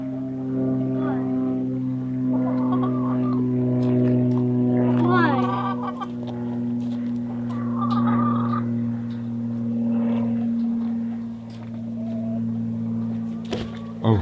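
Baby chicks peep in a small enclosure, with scattered high chirps over a steady low hum while a person talks nearby.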